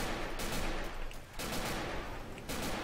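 Rapid bursts of gunfire from the co-op zombie shooter Left 4 Dead 2, dense and continuous across the moment with a brief dip midway, loud and close with no voices over it.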